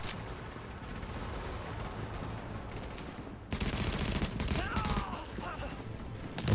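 Bursts of enemy shotgun and rapid gunfire in the video game The Division, a steady crackling barrage that jumps louder midway, with a voice speaking briefly.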